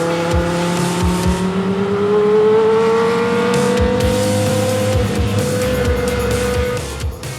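A Formula 1 race car drives on track, its engine a loud, sustained high-pitched whine that rises steadily in pitch as it accelerates, heard close and alone.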